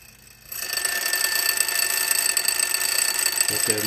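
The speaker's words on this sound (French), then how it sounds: "On va voir si on va entendre le timbre du réveil matin." An alarm clock bell bursts into a loud, continuous metallic ringing after a brief quiet moment and keeps ringing steadily to the end, during an experiment on whether sound travels in a vacuum.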